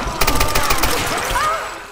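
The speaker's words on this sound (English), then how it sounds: "Do I have to use my shotgun?" Gunfire bursts in the Tomb Raider video game, likely the player's shotgun, as a cluster of loud sharp blasts in the first half followed by a rumbling tail with faint whistling tones.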